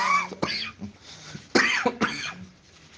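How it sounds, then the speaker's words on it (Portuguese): Several dry coughs in two clusters, close and loud, with short pauses of quiet between them and no talking. "Eu tô com essa tossinha chata. Tossinha de friagem"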